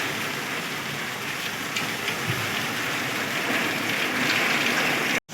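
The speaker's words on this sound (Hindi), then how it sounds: "वादी इस्मानी शहर चौकी बहुत तेज़ तूफानी बारिश।" Heavy stormy rain pouring down on the town market in Wadi Samani, Azad Kashmir, a dense, steady roaring hiss close by that cuts off abruptly at the end.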